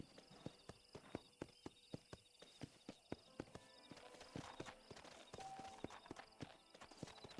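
Steady hoofbeats from a horse in Red Dead Redemption, close and crisp, keeping an even walking rhythm over quiet ambient background, with the pace briefly softening midway before picking up again.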